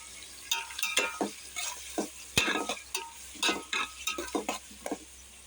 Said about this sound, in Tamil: இப்போ வந்து வெங்காயம் போட்டிருக்கேன் ஃப்ரெண்ட்ஸ் வெங்காயத்தை போட்டு கொஞ்சம் நேரம் வதங்கட்டும்